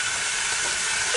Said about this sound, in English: Hear that sizzle? That's the sizzle.